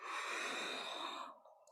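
A long, steady breath drawn in or let out during a flowing vinyasa yoga sequence, close and airy, holding evenly for over a second before fading out. No one speaks.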